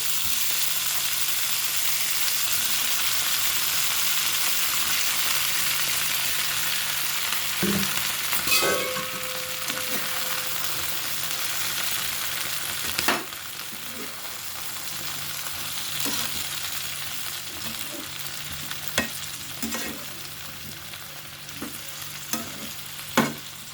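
Tomato and brinjal pieces fry in a pan for a spicy pachadi, giving a steady, fairly loud sizzle throughout with occasional sharp clicks and scrapes of a stirring spoon, and no talking.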